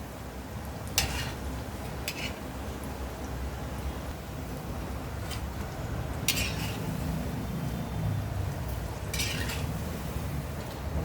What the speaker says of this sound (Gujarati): આ આપણા સરસ મીડિયમ તાપે તળવાના